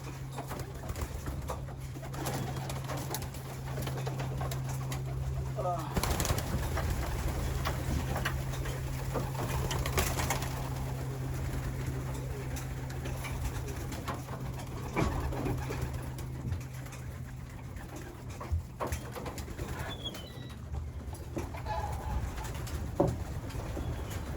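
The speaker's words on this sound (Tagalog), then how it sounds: "so ayan yung mga ibon natin" Pigeons of a newly arrived Capistrano Classic batch coo steadily in a loft, low repeated coos under a constant hum and light rustling, with a few faint bird calls throughout.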